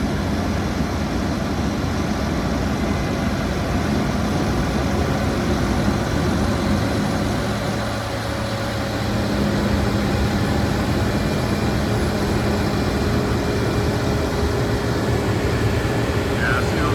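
A roughly 650-horsepower combine harvester engine runs steadily through a wheat harvest in Idaho, a loud, continuous broadband drone that stays even throughout, with a brief dip around the middle.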